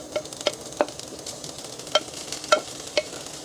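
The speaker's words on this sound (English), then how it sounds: "Now that the oil is heated, we are going to add in the tofu." Shredded tofu sizzles in heated oil in a pan, with soft continuous frying crackle and several sharp scraping stirs of a utensil at irregular intervals.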